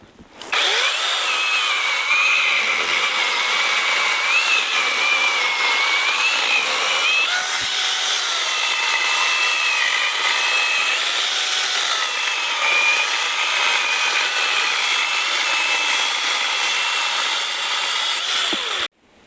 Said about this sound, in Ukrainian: Тепер грьосером пиляємо той же самий червоний дуб.